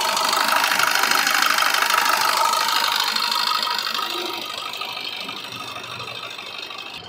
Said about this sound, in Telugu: Diesel vehicle, diesel engine.